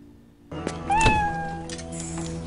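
One rising, slightly strained cat meow serves as a scene transition in the motorbike movie Torque, sounding clearly on top of a continuous music backdrop after a quiet start.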